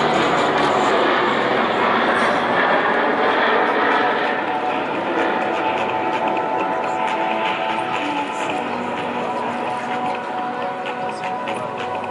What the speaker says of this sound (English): You can see the engine starting up again.